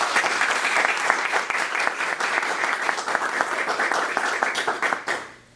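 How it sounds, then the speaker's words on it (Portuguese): Enthusiastic audience clapping for a presenter at a games talk, steady and dense for several seconds with crisp individual claps before it fades out at the end. "Só uma salva de palmas pro Jeff"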